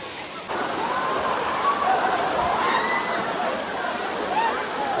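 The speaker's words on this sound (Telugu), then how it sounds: "సో ఫైనల్లీ వాటర్ ఫాల్స్కి అయితే వచ్చేసినాము" A waterfall in a hidden forest spot, steady loud rushing water filling the whole scene with a constant roar after a brief quieter start.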